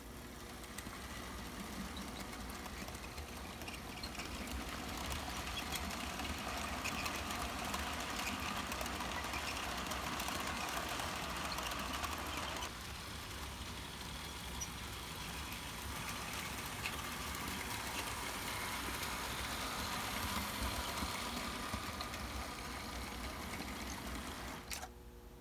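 A model ALCO FA locomotive runs while pulling a heavy pre-war all-die-cast American Flyer passenger coach, its small motor giving a continuous, fairly faint mechanical whir and rattle that holds steady for the whole stretch.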